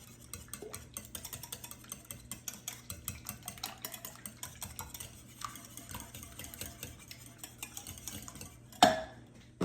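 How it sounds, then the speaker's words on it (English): Eggs are beaten and broken up in a bowl for a ham and cheese casserole, producing a fast, regular run of close clicks and taps from the utensil against the bowl, with one louder clank near the end. "we're just gonna give these a good mix, break these eggs up"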